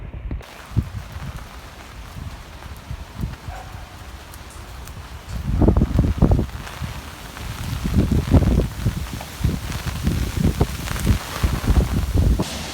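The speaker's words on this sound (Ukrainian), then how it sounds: "Вітер такий неймовірний, дощ іде." Strong autumn wind gusts and steady rain outdoors in October, a rough, rushing roar that swells in loud bursts through the second half.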